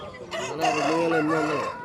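A rooster at a poultry market in Vijayawada gives one loud, close crow lasting under two seconds, with faint background noise around it.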